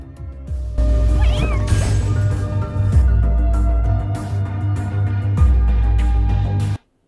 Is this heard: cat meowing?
yes